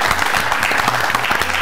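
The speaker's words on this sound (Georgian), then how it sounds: "ვთხოვთ, რომ ხურვალე აპლოდისმენტებით" Steady applause from an audience at a Georgian student book-quiz show, a continuous dense patter of clapping with no talk over it.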